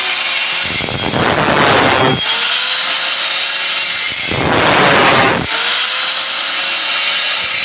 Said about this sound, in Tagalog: kinakating ni brother yung mga bakal